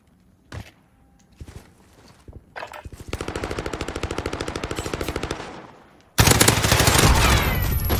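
SMG fire in Call of Duty Modern Warfare: a few scattered shots and steps, then a sustained rapid burst of automatic fire, followed by louder dense gunfire and explosions at close range.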